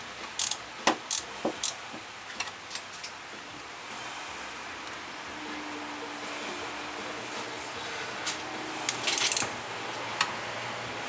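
A hand ratchet wrench clicks while working on an old 1979 Holden VB car, opening with a few sharp bursts and then quieter intermittent ratcheting against a soft mechanical background, with no talking.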